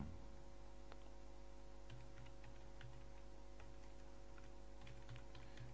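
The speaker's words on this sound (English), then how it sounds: "So what I'm going to type here is," Faint, quick keyboard keystrokes click irregularly on a computer keyboard while someone types into a web registration form, set against a steady low electrical hum.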